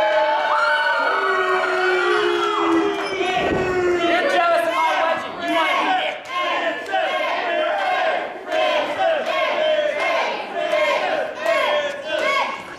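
A packed wrestling match crowd roars and chants in unison, a loud, continuous wall of rhythmic shouting and cheering that swells and dips throughout.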